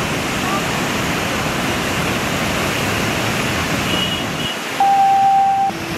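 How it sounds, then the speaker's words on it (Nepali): Tinau river in flood near Butwal, surging water roaring as a loud, steady broadband rush throughout, with a brief tonal beep near the end. "साँच्ची नै यति बेला तिनाउ नदी उर्लेर आएको छ, एकदम सो गर्ने तरिकाबाट अगाडि बढिरहेको नदी हामी देखिरहेका छौँ यति बेला।"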